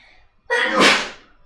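A single sharp sneeze bursts out in a quiet painting studio, rising quickly to a loud, breathy peak and trailing off over about a second.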